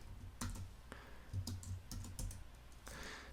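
Code is typed in Xcode on a computer keyboard as a short burst of close key clicks in an irregular rhythm, with no talking.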